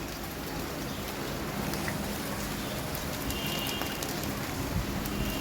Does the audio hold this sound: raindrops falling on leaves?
yes